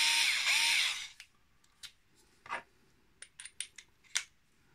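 A Xiaomi Mijia electric screwdriver whirs loudly for about a second with a rising then steady motor whine, then stops, followed by scattered light clicks and taps as it is handled.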